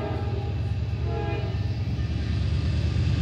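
Train rolling along a railroad, a low steady rumble of wheels and cars passing nearby with a continuous mechanical drone.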